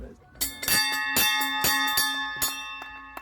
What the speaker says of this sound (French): On met là et la petite cloche.